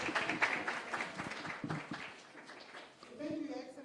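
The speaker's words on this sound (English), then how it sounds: "Let's give His Excellency another round of applause." Audience applause rises for His Excellency, Deputy President Ruto, at a civil society breakfast meeting in Nairobi. Moderately faint, dense clapping fills the first half, then thins and fades, with a voice talking near the end.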